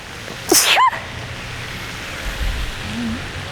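A single sharp sneeze bursts out near the microphone, brief and loud, followed by quiet room ambience with faint low noise.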